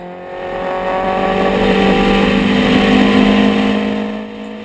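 A Lotus 23 race car sweeps past at a vintage race meeting in Bulawayo, its engine note loud and close, rising as it approaches and fading as it goes away, with no voices.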